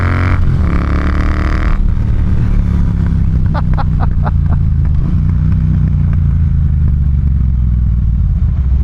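Triumph T120 motorcycle being ridden, its engine a loud, steady low rumble throughout, with a brief rise in pitch early on and a short run of clattering ticks in the middle.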